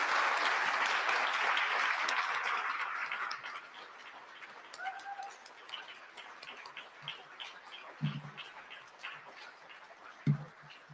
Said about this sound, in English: And one last round of applause for everybody.